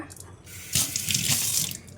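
Tap water gushes loudly into a sink as something is rinsed under it, close by and continuous.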